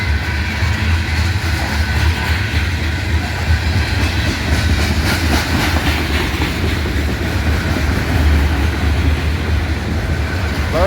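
A freight train rolls past on a rail line through Abbeville, a loud, steady rumble of wagons with rhythmic clickety-clack from the wheels, heard close and continuous throughout.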